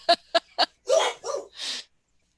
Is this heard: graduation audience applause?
no